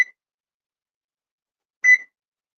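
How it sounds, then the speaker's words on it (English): An oven timer gives a brief electronic beep, then after nearly two seconds of silence a second, slightly longer beep, both close and clear with nothing else around. "we're going to set the timer for 30"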